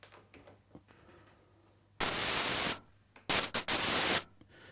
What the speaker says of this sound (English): And we'll get rid of that white noise.